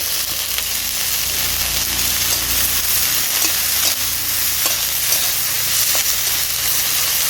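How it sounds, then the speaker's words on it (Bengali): Papaya leaf greens fry and sizzle steadily in a hot pan with a pinch of salt, a continuous loud hiss broken by occasional soft scrapes of stirring, with no voices. "পেঁপে শাকটাকে এবার আমি ভালো করে ভাজতে থাকবো"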